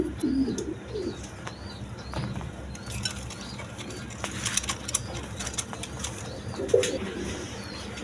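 Pigeons coo softly and faintly with occasional wing flaps at close range in a quiet room, alongside light rustling and a voice speaking in the background.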